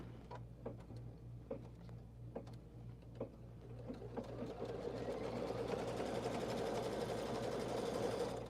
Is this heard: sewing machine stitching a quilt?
yes